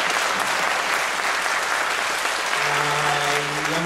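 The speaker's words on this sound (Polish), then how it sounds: "Drodzy Państwo, brawa dla reżysera!" Audience at a freedom-themed film festival applauds the director after a screening, dense continuous clapping filling the room at steady volume, a low voice or hum entering near the end.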